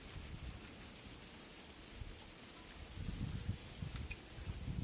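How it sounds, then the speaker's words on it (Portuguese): Summer rain falls on a river, a steady soft hiss of drops hitting the water that swells slightly louder toward the end, with no voices. "Ó os pingos de chuva passando aí. Pingando na água aí, ó."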